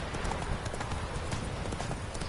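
Roach the horse gallops in The Witcher 3, rapid steady hoofbeats pounding close and loud throughout, with no talk over them.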